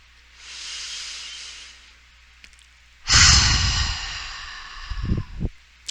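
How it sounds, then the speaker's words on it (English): Slow, deep breaths close to the microphone: a soft airy inhale, a pause, then a louder, fuller exhale that tails off, followed by short breathy puffs. "take a couple of nice, slow breaths and notice your breathing"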